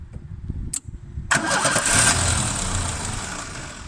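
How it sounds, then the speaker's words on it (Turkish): A Brodway car engine with a faulty manifold cranks briefly, then catches and settles into a steady running rumble, close and fairly loud, with no voices. "Şimdi marş bas."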